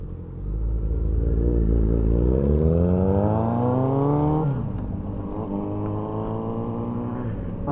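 A motorcycle rides in second gear on a cold night, its engine droning steadily close by. The pitch climbs smoothly as it accelerates, drops sharply at a shift, then rises again, with no talking.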